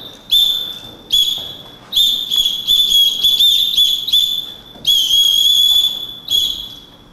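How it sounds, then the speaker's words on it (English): Loud, shrill whistle blasts in rhythmic bursts of varying length, some short and clipped, others long and sustained, blown close up during dancing. "when I am blowing the whistle and dancing"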